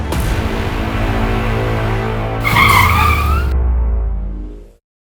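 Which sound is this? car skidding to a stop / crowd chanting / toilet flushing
car skidding to a stop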